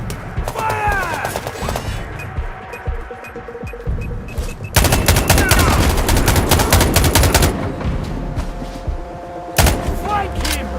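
Bursts of automatic and single-shot gunfire in a Sniper Ghost Warrior Contracts firefight, loud and dense with booming impacts, continuing throughout while voices shout over the shooting.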